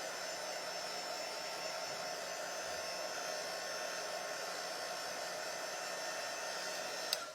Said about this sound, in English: going to dry this real quick. We're on low heat because I don't want that heat on the transfer.